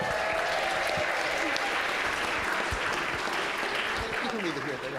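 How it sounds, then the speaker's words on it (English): Crowd at an adult Purim spiel applauds Bill LeBeau as he comes up, loud, dense clapping with scattered whoops and cheers running for five seconds, with a few voices calling out over it. "Give him a big round of applause."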